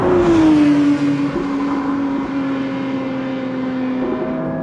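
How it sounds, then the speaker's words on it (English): Porsche 911 S/T engine revving hard while driving, a loud, sustained mechanical drone that climbs early then settles into a steady high-revving note, heard up close with little sound deadening and no talking. "with the lack of sound deadening, you're just assaulted by the engine all the time"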